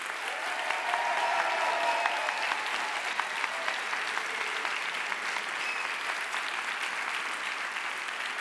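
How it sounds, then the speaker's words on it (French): A large audience at the Ma thèse en 180 secondes final at UNIGE gives sustained, even applause for the twelve finalists, a dense steady roar of clapping from a crowded hall. "je vous propose déjà un tonnerre d'applaudissements pour ces 12 finalistes"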